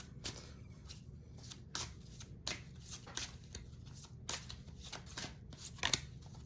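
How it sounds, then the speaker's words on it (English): Oracle cards are shuffled by hand close to the microphone, a quiet run of crisp riffling and flicking bursts repeating about every half second, with a faint indoor background behind them. "let me pull cards"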